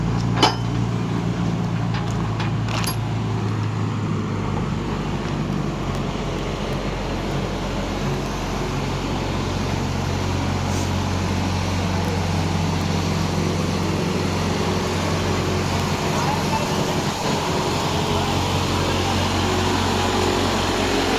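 A tractor engine runs steadily at close range on a brick-unloading job, a continuous low rumble that holds for the whole stretch with occasional faint clinks over it and no talk.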